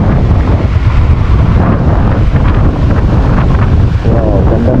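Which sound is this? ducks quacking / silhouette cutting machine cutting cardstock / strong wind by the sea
strong wind by the sea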